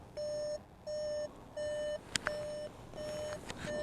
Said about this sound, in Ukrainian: Зараз я сяду в машину, щоб воно не пищало нам.